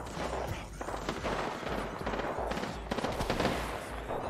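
Rapid, fairly faint gunfire crackles through an Apex Legends firefight, with overlapping bursts and scattered sharp shots against a constant busy background.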